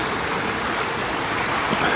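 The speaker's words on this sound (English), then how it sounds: "river flowing. Nice peaceful sound." The River Dane flows in Congleton Park as a steady, close rushing wash of water with no other sounds over it.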